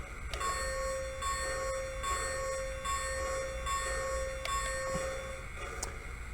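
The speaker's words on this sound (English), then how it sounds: "Here's the bell." A Lionel American Flyer model Berkshire locomotive, Nickel Plate Road 765, rings a steady sustained bell tone over rumbling background noise, with a few sharp clanks and a brief whistle-like rise near the end.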